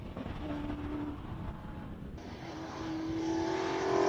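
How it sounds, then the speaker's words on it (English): A classic Porsche 911 Turbo drives past at a classic car sprint event in Cape Town, its engine note rising and growing louder toward the end, with a tonal whine over broadband road noise. "911 Turbo comes through"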